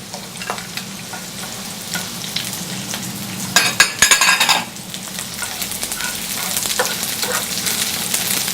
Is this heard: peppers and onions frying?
yes